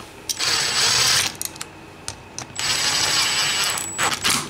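A 5mm driver snugging bolts on a motorcycle primary, with bursts of close metallic ratcheting clicks in two main runs separated by short pauses, no talking.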